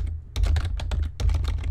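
Rapid keystrokes on a computer keyboard while coding a Bukkit minigame plugin, loud and close, in dense bursts with a short pause between them and no voice.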